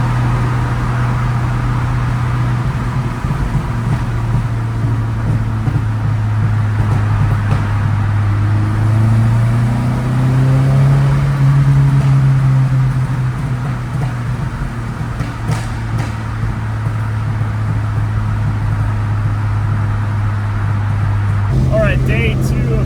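A classic car cruising on a highway, its steady engine drone and road noise filling the cabin, with the pitch briefly rising mid-drive and a sharp change near the end.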